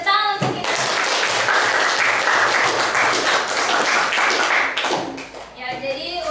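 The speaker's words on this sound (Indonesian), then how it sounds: "Oke, tepuk tangan untuk kita." A school mathematics classroom breaks into loud, dense clapping from many students that lasts several seconds and then fades, with children's and a teacher's voices speaking around it.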